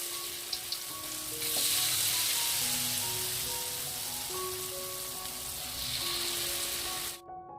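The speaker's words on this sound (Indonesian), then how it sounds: "Kemudian goreng ke dalam minyak yang sudah benar-benar panas." Tempeh chips sizzle and crackle steadily in very hot oil, a loud, continuous frying hiss that swells as pieces are added, then cuts off abruptly.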